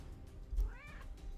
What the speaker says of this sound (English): This cat loves being hugged.